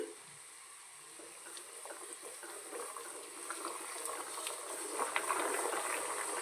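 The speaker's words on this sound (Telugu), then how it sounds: "ఈ ఆయిల్ అనేది లో ఫ్లేమ్లో ten to fifteen minutes heat చేయండి బాగా ఉడకనివ్వాలండి" Hair oil with aloe vera gel heating on a low flame, giving a faint, steady bubbling sizzle that grows slightly louder and busier toward the end, with scattered small pops.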